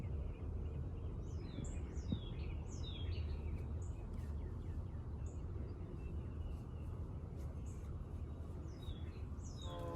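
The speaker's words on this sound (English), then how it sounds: "I had to leave on the audio for you guys to hear the birds chirping this morning" Birds chirp on a homestead in the morning, with repeated short, bright calls scattered across the clip over a steady low outdoor rumble, fairly quiet and with no talking.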